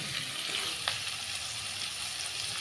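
Teasel gourd pieces fry in hot oil with salt and turmeric, giving a steady, dense sizzle that stays close and even for a couple of seconds, with a faint scrape partway through.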